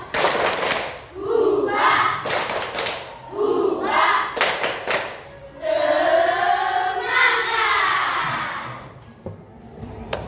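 A seated group in an Indonesian classroom performs a rhythmic spirit-clap routine as an icebreaker, with sharp bursts of unison claps in patterned rhythm mixed with loud chanting voices.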